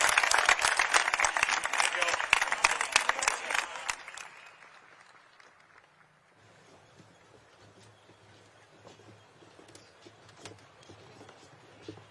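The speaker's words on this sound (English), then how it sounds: "One more time, a big round of applause for the class of 2026." Graduation audience applause in a large venue, dense clapping and crowd noise for about four seconds that fades away into quiet room murmur and sparse sounds.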